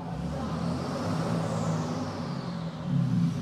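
Cummins diesel truck running on a dyno with an aftermarket air intake, a steady loud rumbling drone with a faint turbo whine rising and falling across the short stretch, no talking over it.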